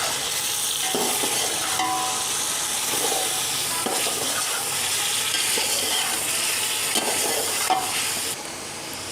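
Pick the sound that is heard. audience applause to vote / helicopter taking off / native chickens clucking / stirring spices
stirring spices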